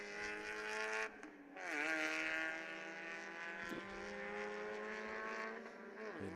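Race cars roar around a track in a steady, loud engine drone with rising and falling pitch as several cars pass. One car's revs dip and climb again at a shift or corner.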